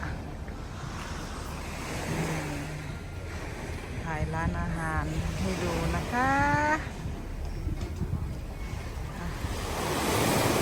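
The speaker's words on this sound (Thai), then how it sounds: "โอ้ย เสียงน้ำทะเลก็" Sea waves wash steadily onto a beach at night, a broad continuous surf rush with some wind noise, while someone talks over it in the foreground.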